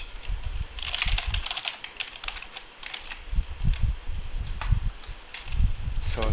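Irregular clicking of a computer keyboard as someone types login details into a MySQL and PHP forum form, quick clusters of keystrokes with short pauses, close and moderately loud.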